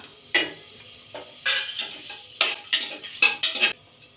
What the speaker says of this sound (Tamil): எண்ணெயும் பட்டர் வந்து நல்லா சூடாயிட்டு இப்போ வந்து பட்டை வகையெல்லாம் சேர்த்துக்கலாம்